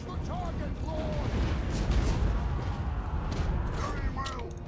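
Booming cannon fire in a battle video game, heavy low blasts rumbling under shouted in-game voice commands, with battlefield noise continuing throughout.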